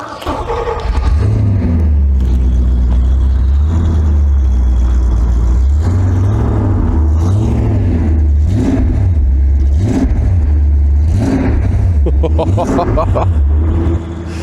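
A rare Porsche 928 DP Motorsport widebody fires up and settles into a smooth, deep idle. The driver blips the throttle repeatedly in rhythmic rev swells, up close and loud, with voices talking over it.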